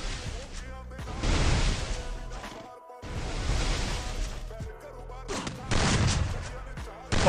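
Gunfire in Garena Free Fire during a 1v1 round: repeated bursts of shots and impacts come in waves over a steady game bed, with brief pauses between volleys.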